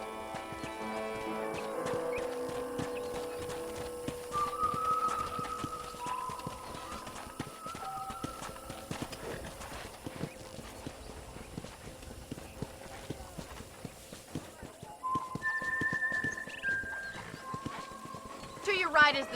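Horse hoofbeats from riding in the video game Red Dead Redemption on a ranch, a steady clip-clop running under background music, with speech over parts of it.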